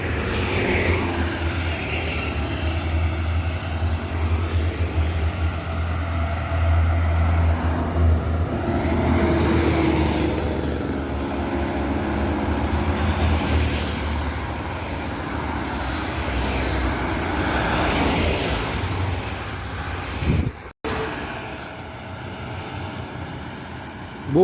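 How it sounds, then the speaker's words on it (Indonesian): A Yowanda Prima intercity bus bound for Palembang passes on the road near Batang Pamo, its deep engine rumble and tyre roar building and lingering for many seconds before a sudden drop near the end. "Yowanda Prima, bus akap yang ke-26 menuju Palembang."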